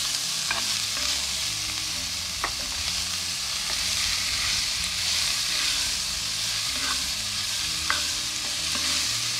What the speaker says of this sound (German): jetzt wird der Bacon schön knusprig angebraten